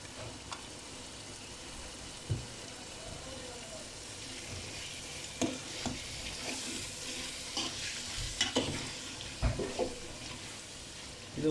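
Chicken coated in masala and curd for a dum biryani cooks in a pan, giving a steady low sizzle broken by occasional clacks and scrapes of stirring, close and fairly quiet.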